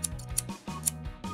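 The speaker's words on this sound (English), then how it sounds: "And, of course, scissors. Trimming a little here and there." Scissors snip through fabric while men's shorts are trimmed, giving about four crisp, close cuts in a quick irregular rhythm, each a short metallic crunch with nobody talking.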